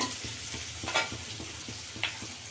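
Onions frying in a pan on a stove that is just being switched off, giving a low, steady sizzle close by with a couple of brief scraping stirs standing out.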